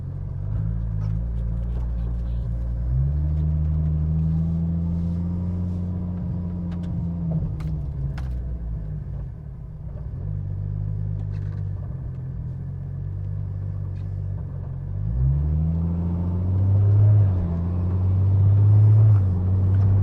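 A 2JZ-swapped Nissan S15 Silvia fitted with an 8HP70 automatic drives along, its engine a steady low rumble with a gentle swell of revs toward the end, heard from inside the car with no talk.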